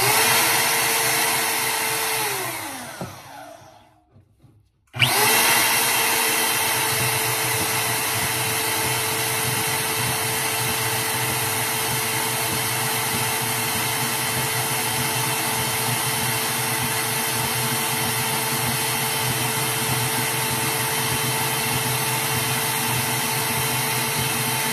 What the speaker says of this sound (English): you can see that bandsaw goes